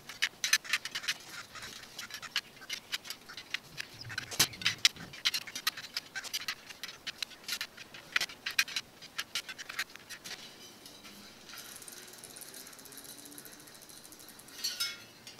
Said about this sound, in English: we'll go around the rim, tightening each spoke nipple, first one turn and then half a turn, until the wheel starts to stiffen up